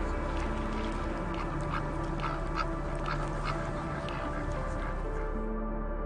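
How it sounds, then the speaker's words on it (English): A duck quacks several times in a row, the calls sitting amid a dense, steady wash of outdoor background noise. "One of the most distinctive features of ducks is their quack"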